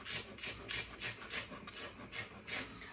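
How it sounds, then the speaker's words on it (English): A flat knife blade grinds salt into garlic on a board to make a paste for beef Wellington, giving a quiet rhythmic scraping and rasping in repeated strokes about every half second. "all you do is you just grind the salt into the garlic"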